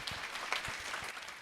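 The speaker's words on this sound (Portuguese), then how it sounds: "Senhoras e senhores, palmas para Maurício de Luca." Audience applause after a talk, steady dense clapping from a crowd for a brief moment.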